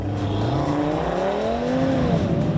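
A 2019 Audi RS 3 engine revving hard as it accelerates, pitch climbing steadily through the gear, loud and close.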